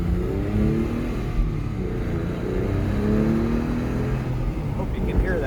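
Porsche 997 Gemballa Avalanche tribute accelerating on a test drive, a steady engine drone with rising harmonic tones heard from inside the car, continuous and fairly loud, with faint voices mixed in.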